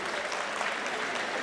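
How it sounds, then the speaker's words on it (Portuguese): Audience applause at the Rio carnival parade order draw for the 2017 Special Group, a continuous even wash of clapping, fairly distant and with no voices on top. "Vamos aplaudir o presidente da União da Ilha do Governador e do Paraíso Tuiuti"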